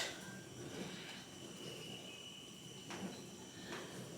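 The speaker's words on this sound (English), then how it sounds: "Any noise you can hear is the dishwasher in the background." A faint, steady mechanical hum with a hissing wash runs in the background, like a dishwasher churning quietly in another part of the room.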